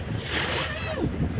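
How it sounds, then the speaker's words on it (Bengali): River waves on the Matla River in the Sundarbans wash and slap steadily around a boat, a continuous surging rush of water mixed with wind buffeting the microphone. "প্রচুর ঢেউ"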